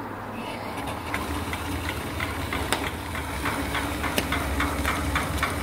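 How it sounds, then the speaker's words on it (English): A small steam engine fed by a rare return flue horizontal boiler runs at a steady chugging idle close by, with rhythmic knocks and hissing steam over a constant low mechanical rumble. "and I'll run the engine."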